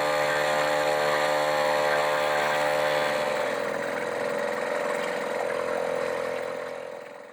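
A small, noisy two-stroke outboard engine on a boat drones loudly and steadily at close range, holding a constant buzzing pitch before easing off slightly at the end.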